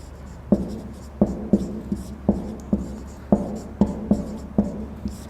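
Pen or chalk strokes from handwriting an example of a Hindi figure of speech during a class lesson, heard as about a dozen distinct, evenly paced taps and scratches, close and fairly clear with no talking.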